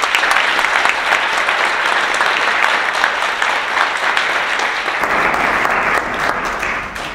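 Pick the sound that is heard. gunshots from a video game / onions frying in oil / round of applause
round of applause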